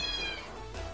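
A house cat meows once, faint and somewhat distant, under a steady background hum.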